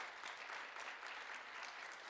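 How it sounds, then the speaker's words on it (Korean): A lecture audience at a forum applauds together in a steady, even wash of clapping that carries on throughout, moderately quiet, with no voices on top. "박수 좀 쳐주세요"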